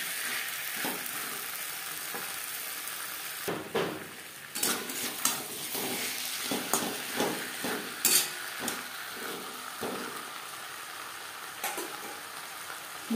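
Potatoes tossed with spices in a pan for a tilapia curry, giving a steady frying sizzle broken by a series of sharp scraping and clinking stirs of the utensil against the pan, close and clear, with no talk.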